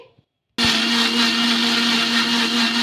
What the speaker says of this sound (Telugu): మిక్సీ పట్టేసుకున్న పేస్ట్ని ఇంక ఇందులోకి అయితే వేసేసుకుందాము